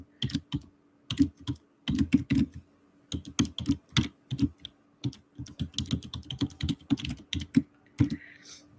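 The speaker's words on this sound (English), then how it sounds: "I can't type and talk at the same time" Fast, irregular clacking of keys on a computer keyboard, close and crisp, in quick bursts with brief pauses between them and no talking.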